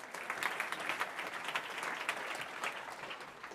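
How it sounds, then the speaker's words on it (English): Conference audience applauding as panelists come on stage for a green-finance discussion, a soft, somewhat distant spread of clapping that holds steady for a few seconds. "Please give them a nice round of applause."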